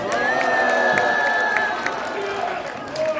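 A crowd at a Korean YouTubers' association press conference cheers and shouts together, a loud, sustained swell of voices with some sharp tonal calls that tapers slightly toward the end.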